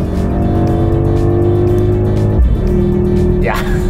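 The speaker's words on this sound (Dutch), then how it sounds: "Dan hoor je onmiddellijk natuurlijk die 8-cilinder weer brullen en dan krijg je gewoon die klappen uit die uitlaat" A Mercedes-AMG GLS63 V8 drones loudly and steadily at close range, then its pitch drops sharply, followed by a quick rising rev near the end, with someone talking in between.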